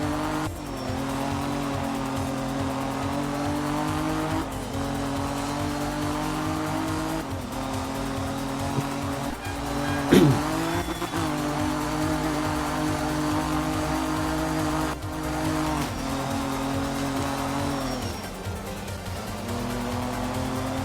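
Car engine droning steadily in a rally-style racing video game, with tires squealing and skidding through corners and one sharp louder screech midway, continuous and fairly loud with no talk.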